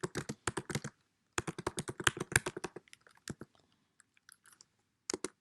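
Rapid clicking of computer keys in bursts, close and crisp, with pauses between flurries and a final short burst after a quiet stretch.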